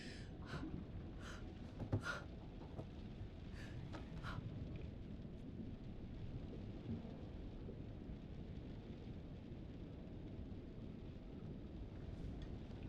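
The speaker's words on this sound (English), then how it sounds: "The storm's 8 miles away." A thunderstorm rolls through a dark horror game setting at sea, a low continuous rumble of thunder and rain with a few brief sharp crackles near the start, fairly faint throughout.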